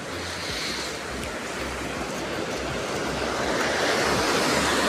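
Flood water rushing beneath a river bridge, a loud continuous broadband roar of churning flow with some wind buffeting, steady and swelling slightly toward the end.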